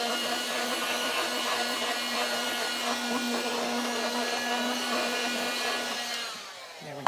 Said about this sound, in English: we're going to bring in our little vacuum again because this is the perfect time for our little pig